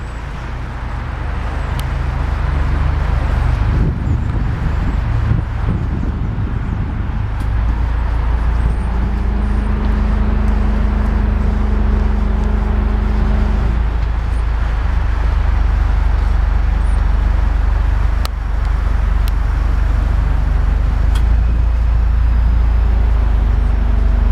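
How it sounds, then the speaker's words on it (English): A 2011 Mitsubishi Lancer Evolution X MR engine idling, a loud, steady low rumble heard close up, with a couple of brief revs partway through; no talking. "It's got a wonderful purr to it."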